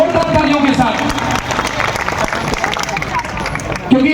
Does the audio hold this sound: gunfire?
no